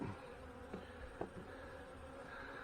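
Honey bees swarm around an open hive during a split being moved to a ten-frame box, giving a steady, close buzzing drone with a few brief louder passes and no voices.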